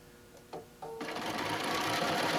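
A sewing machine runs a decorative stitch on a quilted placemat made from a fabric panel. A couple of soft clicks come first, then a steady, close, rapid mechanical whir continues alone to the end.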